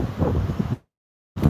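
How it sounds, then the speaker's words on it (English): Gusty wind buffeting a microphone outdoors, a loud rumbling roar that cuts out abruptly into silence, then returns. "Sorry if it's windy."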